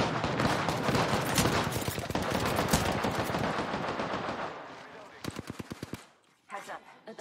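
Rapid automatic gunfire in an online battle royale shooter rattles in dense, loud bursts, then breaks into shorter separated volleys near the end, with a player's voice briefly audible in the mix.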